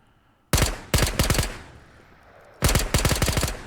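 An automatic gun in a video game fires three loud, close rapid bursts, the first short, then a longer rattle, a pause, and a final sustained volley.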